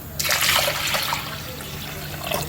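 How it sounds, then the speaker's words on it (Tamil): Water pours into a vessel of freshly washed lentils in a home kitchen, a close, loud splashing gush that steadies into a trickle and swells again briefly near the end. "பருப்பு கழுவிட்டேன் தண்ணி ஊற்றிடலாம்"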